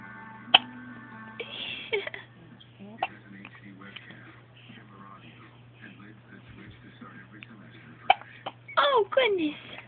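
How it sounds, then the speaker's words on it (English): A little girl hiccups in short, sharp, isolated catches, spaced a few seconds apart, while an adult talks softly over a steady low hum in a quiet home. "You got the hiccups, little girl."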